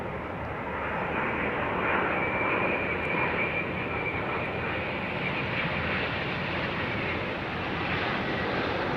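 Boeing 787 Dreamliner at Heathrow airport, a steady broadband engine roar with a faint high whine, moderately distant and continuous, with no talk.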